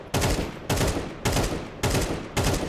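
Five loud bursts of automatic rifle gunfire at a bot in Counter-Strike 2, each roughly half a second long and evenly spaced, with short gaps between them.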